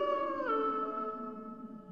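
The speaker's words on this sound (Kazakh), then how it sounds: "Тез бас аяғында қасқырлар жақындап қалған сияқты." Wolves howl in a Kazakh cartoon: long, wavering howls with a dip in pitch partway through, several voices layered and slowly fading, with no talk.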